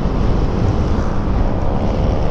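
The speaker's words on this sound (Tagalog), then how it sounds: "Malakas nga pala ang hangin ngayon." Strong wind roaring steadily across the microphone, a constant low rumbling buffet with no pauses, loud and close throughout.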